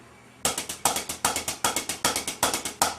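Crisp drum strokes strike in quick, even bursts of four that repeat steadily, each hit sharp and close with a brief decay.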